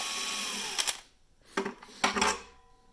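A power screwdriver backs Phillips screws out of the front cover of a large LiFePO4 lithium battery pack, making three short, close whirring bursts separated by brief quiet gaps.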